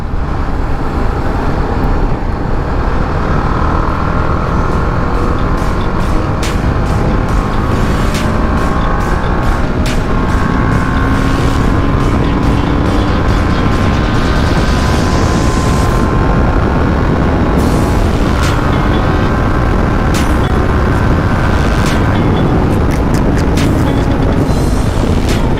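A TVS Apache RR310 motorcycle with its stock exhaust, ridden hard in sport mode on a highway, loud and close with repeated rising revs through the gears over constant wind rush and engine roar.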